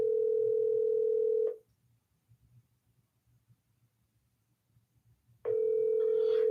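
A telephone dial tone hums steadily on an outbound call to insurance leads, drops into near silence with faint low noise for about four seconds, then resumes at full level.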